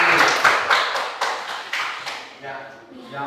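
A classroom of students gives a round of applause for a classmate after her presentation, a short burst of irregular claps that thins out and fades over a few seconds.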